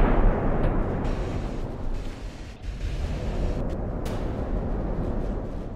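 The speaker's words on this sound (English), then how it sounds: "Yeah, just let your shots bounce off of me. He's firing HE because he knows that's really all he can do." Naval gunfire in the Ultimate Admiral: Dreadnoughts warship game, with HE shells firing and bouncing off armor; a dense, continuous rumble of booming shots and impacts runs loud throughout, with brief sharp cracks near the end.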